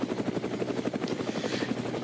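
A helicopter hovers above the Nürburgring circuit, its rotor thudding in a steady, fast pulse that stays constant and fairly close throughout, with no voices over it.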